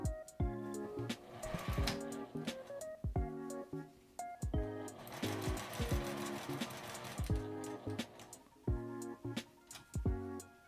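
A sewing machine stitches a small round drawstring bag, its motor running in close, steady bursts of rapid stitching separated by brief pauses as the fabric is turned, with no speech.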